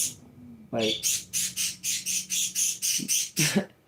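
A pet bird squawks in a rapid series of about a dozen loud, harsh, evenly spaced calls, with a voice talking briefly before and near the end.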